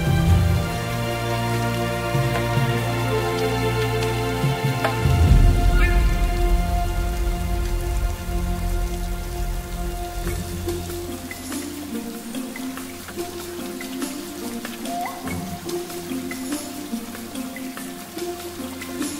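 Rain falls steadily in a garden, a dense patter of drops on leaves and surfaces with a soft continuous hiss. It swells briefly around five seconds and then eases slightly, with no voices.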